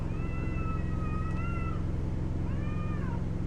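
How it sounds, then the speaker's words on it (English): Cats yowl in long, wavering drawn-out cries, two separate calls over a constant low droning hum, moderately near and with no talk. "That gray cat's pissed."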